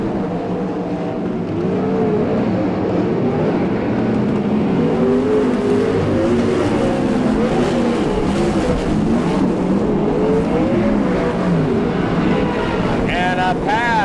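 NARC California Lightning Sprints sprint cars race at the Bakersfield, California speedway. Several engines roar and rev continuously, close and loud, while an announcer talks over them.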